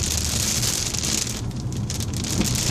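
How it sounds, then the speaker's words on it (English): Steady rain pours onto a car during a Fort Lauderdale, Florida tornado watch, a dense continuous hiss of drops on the roof and windshield heard from inside the vehicle, with a low road rumble beneath and no talking. "Yeah, it's starting to rain,"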